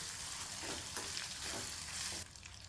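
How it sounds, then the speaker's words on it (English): Mackerel pieces and garlic are stirred in hot oil, giving a loud, continuous sizzle and crackle with faint scraping of the stirring spoon, heard close and alone. "let us stir this well. The oil should get into the mackerel pieces"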